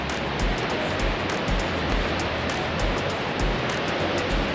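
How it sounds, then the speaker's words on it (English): Broad, steady roar of falling water at Horseshoe Falls on the Victoria Falls river, a dense continuous rumble with faint surging pulses, loud and unbroken with no voices. "Here we go, Horseshoe Falls."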